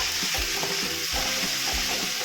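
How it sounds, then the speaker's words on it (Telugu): Ginger garlic paste frying in oil on a slow flame for a chicken fry, a steady close sizzle under a few regular scraping stirs of the spoon, with no one speaking. "మినిమం 2 మినిట్స్ అన్నా వేయించుతాను ఆయిల్లో"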